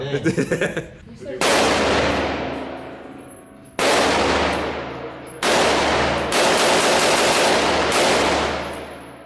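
Loud shotgun blasts from a Blackwater Sentry 12 fired with a thumb trigger, three heavy booming shots with long decaying echoes outdoors, following a brief burst of voices and laughter at the start.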